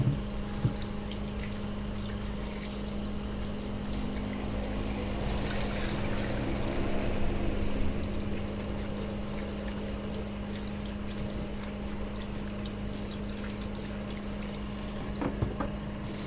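Peeled cassava being washed in water gives soft pouring and sloshing sounds over a steady low hum, quiet and continuous throughout.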